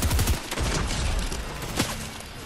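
Rapid close gunshots crack in quick succession in a Fortnite match, several sharp bursts packed into a couple of seconds amid a dense, noisy game mix, with no talking.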